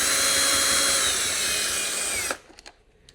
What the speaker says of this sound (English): we got to remove this Torx screw so we can bring this door panel out